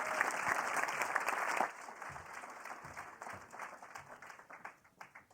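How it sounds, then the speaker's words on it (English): An audience applauds loudly for a couple of seconds, then the clapping thins out and fades to scattered claps. "Will you join me in giving him a round of applause?"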